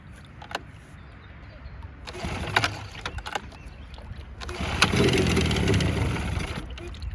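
A Suzuki engine fitted with new reeds and an untuned carburetor runs with the choke on, giving a steady, close droning rumble that swells louder and denser in the second half.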